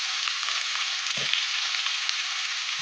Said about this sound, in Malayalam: പച്ചമുളകും കരിവേപ്പിലയും കൂടി ഇട്ട് ഒന്ന് ഇച്ചിരി വഴറ്റിയെടുക്കാവേ.